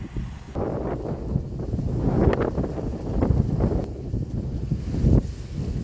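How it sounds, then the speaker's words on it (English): Steady wind buffets the microphone on a dock with a low, roaring rumble that swells and eases in gusts throughout. "Windy day"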